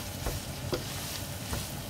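Steady sizzling of bell pepper frying in a pan with tomato sauce, with a few soft stirring scrapes.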